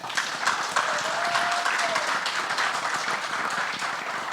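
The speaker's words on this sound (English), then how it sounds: "So please, a big round of applause for him." A crowd applauds for the director of a comedy thriller at a Bollywood film trailer launch, steady dense clapping that holds loud and even throughout, with a faint voice briefly audible beneath.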